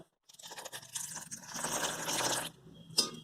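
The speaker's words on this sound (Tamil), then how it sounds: "ரொம்ப தண்ணியாக கரைக்காமல் கொஞ்சம் கொஞ்சமாக தண்ணி ஊற்றி கொஞ்சம் ஒரு திக்கான பதத்துக்கு கரைச்சி எடுத்துக்கோங்க" Water poured bit by bit into gram flour batter for traditional bajji while it is stirred: wet squelching and sloshing mixing noises build and churn for a couple of seconds, close up, then stop with a brief clink.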